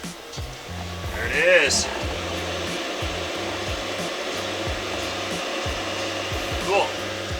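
A Webasto diesel heater in a van starting up: a steady mechanical whir and low rumble like a small heater fan running, with a brief higher whine near the start and people talking over it.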